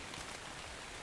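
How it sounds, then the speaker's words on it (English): Rain falls in the video game ARK: Survival Evolved as a steady, faint, hissing patter, with no voices and no other sounds. "Oh, it's raining."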